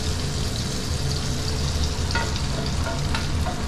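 Mung beans go into a hot pan and sizzle loudly, with a continuous crackling fry and scraping stirring noises throughout, close and without any voices.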